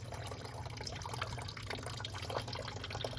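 Coolant drains from the radiator of a 2009-2013 Toyota Corolla or Matrix into a drip pan, producing a steady, close trickling and splashing of liquid with no one talking.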